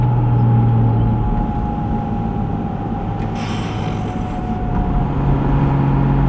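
A Porsche 718 Spyder RS drives a back road, its engine a steady close drone with a sustained tone and a brief broadband rush midway, with no talking.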